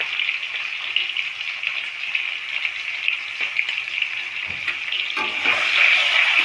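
Boiled eggs frying in oil with turmeric powder and salt, a loud continuous hiss and spatter close by, with a couple of low knocks of the pan and the sizzle swelling toward the end.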